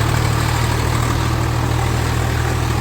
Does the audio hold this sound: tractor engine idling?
yes